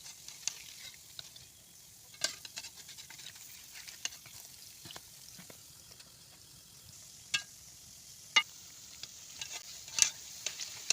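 Palm fritters made with cow's milk frying in hot oil, a soft steady sizzle broken by sharp clacks and scrapes as the pieces are turned, close and fairly quiet, with no talking.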